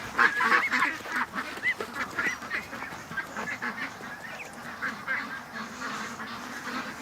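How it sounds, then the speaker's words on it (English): Geese or ducks honk and quack repeatedly at close range on a swampy homestead at dusk, a steady rough chorus of calls with no talking. "Get this duck inside."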